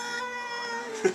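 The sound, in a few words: scared cat making a noise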